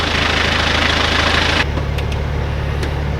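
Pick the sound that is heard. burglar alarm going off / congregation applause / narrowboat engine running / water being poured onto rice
narrowboat engine running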